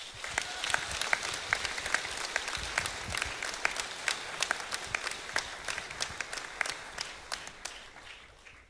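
Dense, sustained applause from an audience at a West Lauderdale High School senior awards night, honoring the graduating class. Many hands clap steadily for nearly nine seconds and fade slightly at the end.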